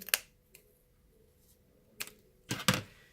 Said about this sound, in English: You're going to snip down.